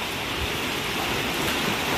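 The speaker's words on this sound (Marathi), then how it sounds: "पाऊस पण आहे मस्त." Steady monsoon rain falling outdoors near a villa pool, a continuous even hiss with no voices.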